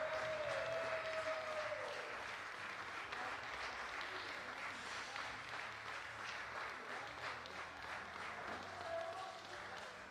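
Crowd at a para shooting world championship in Lima, during a men's 10m air rifle standing final, applauds steadily and fairly loudly, with a commentator speaking briefly over the clapping.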